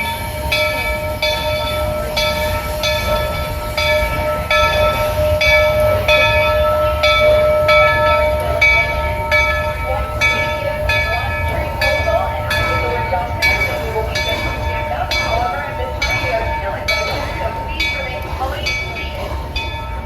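A Walt Disney World Railroad train in the Magic Kingdom rumbles along the rails with a steady rolling drone and rhythmic clacking, loud and close throughout, with a faint ringing tone on top.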